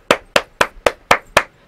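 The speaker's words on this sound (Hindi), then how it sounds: "ताली।" Six sharp, evenly spaced claps ring out close and loud at an Indian wedding, each a crisp smack with a quick decay and near silence between.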